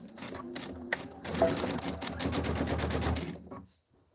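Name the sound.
sewing machine sewing quilt borders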